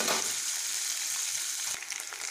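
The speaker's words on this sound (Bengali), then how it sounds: "আমি সাদা তেল দিয়ে 150 গ্রাম পনিরকে ভেজে নিচ্ছি" 150 grams of paneer fry in white oil in a pan, giving a continuous close hiss and sizzle that stays steady and fairly quiet throughout.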